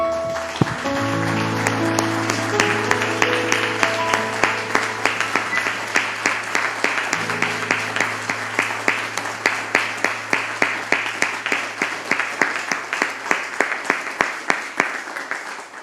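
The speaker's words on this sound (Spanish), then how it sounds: "Le damos un aplauso al Señor, hermanos." Congregation applauding at the close of a Spanish-language church service, steady crowd clapping over a sustained organ or keyboard chord at first, then settling into a rhythmic, evenly pulsed clap that carries on for many seconds.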